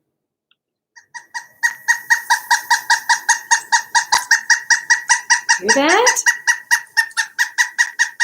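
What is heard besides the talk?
pileated woodpecker call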